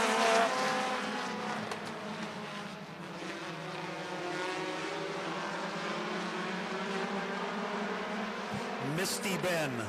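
Short-track race cars roar around Slinger Speedway, their engines droning in a steady layered whine that sweeps as cars pass near the end, with a voice talking underneath.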